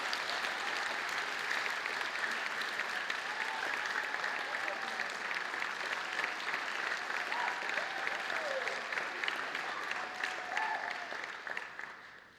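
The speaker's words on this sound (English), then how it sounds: "So a round of applause for both of them." Sustained applause from a large audience at a school 8th grade concert, steady and dense for the whole stretch, tapering off slightly at the very end.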